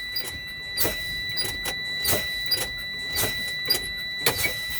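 A truck's air brakes being fanned during a pre-trip inspection: a run of sharp, evenly spaced hisses of released air, about one every second, over a steady background hum.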